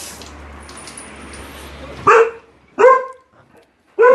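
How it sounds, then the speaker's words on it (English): A dog barks in a tiny Japanese kitchen: three loud, close barks at roughly even intervals after a stretch of low room hum, with no talking. "It's going to be very loud if she barks in the mic."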